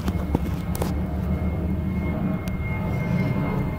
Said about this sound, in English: There's planes flying by at this hour.